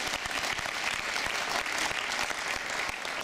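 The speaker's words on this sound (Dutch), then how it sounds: "Ja, dat is een applaus." Steady audience applause at a 2022 Alterno team presentation in Apeldoorn, dense clapping sustained evenly throughout without speech.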